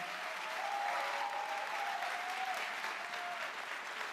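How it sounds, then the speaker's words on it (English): Steady applause from an audience for speakers at an evening event fills the whole stretch, a dense patter of clapping hands that holds constant, with a faint tone running through the middle. "One final round of applause for our speakers."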